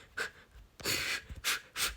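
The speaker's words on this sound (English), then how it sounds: "As long as I just do very laborious breathing, I can survive" Laborious heavy breathing, a handful of close, rasping inhales and exhales in an uneven rhythm, some long and drawn out, others short and sharp, with no speech.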